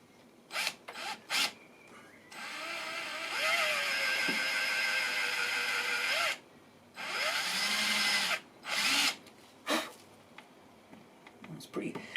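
Power drill boring into hardwood for a homemade beer tap handle, heard in several sustained whirring runs of a few seconds each, separated by short bursts and pauses, close and fairly loud.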